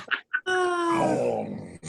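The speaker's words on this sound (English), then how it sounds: "Guard dog thinks he's guard dogging something." A guard dog gives a short, close growl that rises into a tonal groaning whine after two quick muffled huffs, heard alone without talk.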